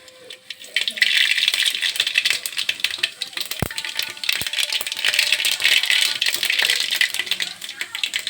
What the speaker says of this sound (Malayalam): കടുക് ശരിക്കും പൊട്ടി വരുമ്പോഴത്തേക്കും